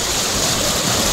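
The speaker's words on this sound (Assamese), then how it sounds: "হাতীৰ ওপৰত উঠি নদী পাৰ হৈ আছোঁ" Broad, steady rushing water of the Doigrung river in Assam as elephants wade across carrying riders, a continuous close wash of flowing water with no voices.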